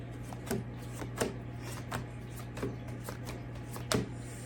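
Tarot cards are shuffled by hand in a series of soft, irregular riffling taps and slaps over a steady low background hum.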